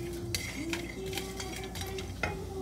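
Spices being stirred into a pot of Hyderabad chicken dalca, with soft scraping and clinks of a spoon against metal, a steady low simmering hiss underneath, and a few sharper taps near the end.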